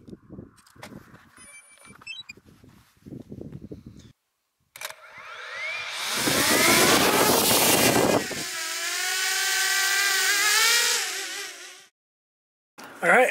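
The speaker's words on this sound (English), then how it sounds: "So I'm gonna send the drone into it." A camera drone flown out over a massive valley at a wedding venue gives a close, loud, steady whirring buzz with a rising pitch that holds for several seconds before cutting off. Faint scattered sounds come before it.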